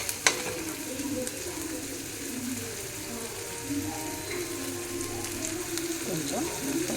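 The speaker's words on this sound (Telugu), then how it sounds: "ఉల్లిపాయ ముక్కలు పచ్చి వాసన పోయే వరకు వేయించుకోవాలి" Onion pieces fry in a pan for a Kusum leaf curry, giving a steady, moderate sizzle with occasional stirring noises and a sharp click near the start.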